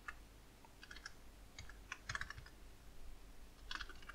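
Quiet typing on a computer keyboard while filling in a web contact form, irregular bursts of soft key clicks with short pauses between them.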